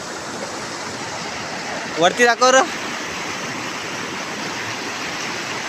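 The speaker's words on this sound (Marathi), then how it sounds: "आमची नदी केवढी मोठी आहे." Water in a large river rushes in a constant, even roar, with one short spoken phrase breaking in about midway.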